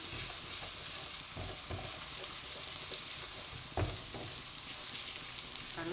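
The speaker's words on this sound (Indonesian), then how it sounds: "kalau sudah panas bawang putihnya ditumis" Garlic being sautéed in hot oil for a stir-fried mustard greens dish, a steady close sizzle and crackle with occasional stirring clinks and one louder knock, no talk.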